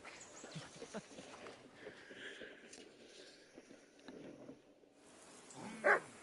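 A dog in Kingdom Come: Deliverance II pads and snuffles quietly around a riverbank camp amid soft footsteps, then gives one sharp, brief bark near the end.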